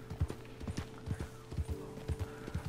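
Horse hooves clip-clop in Red Dead Redemption 2, a steady trotting rhythm of close, distinct hoofbeats with no voices.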